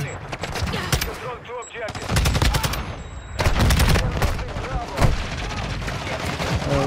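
Sustained automatic gunfire in Call of Duty Modern Warfare 2, loud and close, with rapid bursts hammering almost continuously and brief pauses between volleys.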